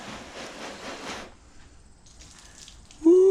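A hose nozzle on its shower setting hisses as it sprays water across a coated panel for just over a second, then falls quiet before a voice lets out a short exclamation.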